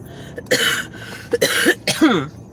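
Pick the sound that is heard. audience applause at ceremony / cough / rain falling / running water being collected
cough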